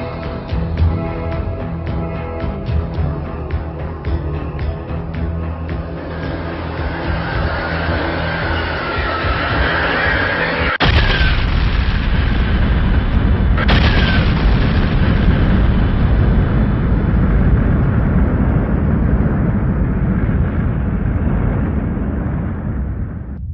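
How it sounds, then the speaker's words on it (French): A cinematic supernova explosion effect: a dense, rumbling swell builds for about ten seconds, then a loud boom strikes, a second blast follows about three seconds later, and a sustained roaring wash carries on to the end. "elle finit par exploser en ce qu'on appelle une nova"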